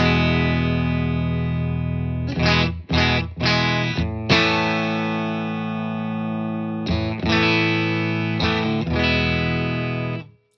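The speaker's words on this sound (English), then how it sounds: "I'll slowly dial this blend in until you just hear the beef of the compression." A clean electric guitar played through a compressor pedal with the blend dialed in: sustained, ringing chords held for seconds, a few quick restrikes in between, loud and close with no voice.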